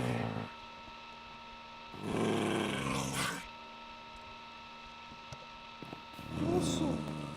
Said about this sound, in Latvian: Suņi kaut kā dīvaini uz mani tā rūc.